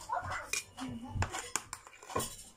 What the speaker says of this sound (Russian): Тут тебе немножко посуду-то мыть.